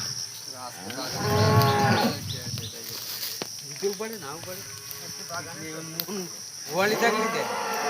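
A dairy cow moos loudly and repeatedly during milking on a farm, with long, drawn-out lows rising and falling close by amid a low background hum.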